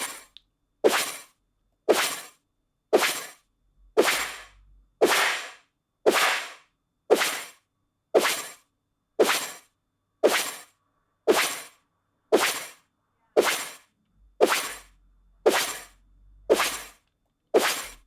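A dash sound effect for the game Celeste, built from oven recordings, plays on a loop: fifteen evenly spaced sharp whooshing hits, each trailing off in reverb before the next.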